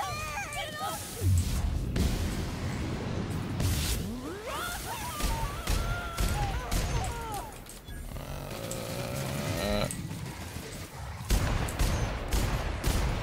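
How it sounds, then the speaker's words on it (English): Assault rifle fire in The Outer Worlds, loud bursts of shots scattered through a busy firefight with whooshes and impacts, while voices talk over the action. "That's a much better assault rifle."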